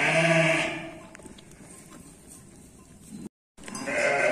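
Sheep and lambs bleat on a farm in a morning full of newborn lambs, a loud bleat opening the sequence and another rising near the end, with quieter rustling in between.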